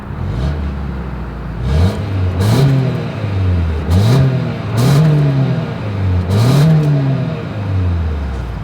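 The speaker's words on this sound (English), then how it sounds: "As always, here is that exhaust clip." A 2024 Toyota Highlander SUV's exhaust, heard outside the vehicle with a steady idle rising into four or five short, strong revs that sweep up and fall back, loud and close with no talking.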